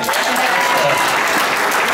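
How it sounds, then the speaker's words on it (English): Dense, loud applause from a comedy-show audience for John Doherty, a continuous close roar of many hands clapping without pause. "How about a round of applause for John Doherty?"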